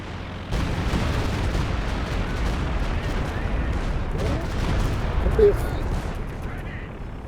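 A Stuka dive-bomber attack in a World War II strategy game roars as dense, continuous explosions and artillery-like gunfire, loud and rumbling throughout, with a brief swell near the end.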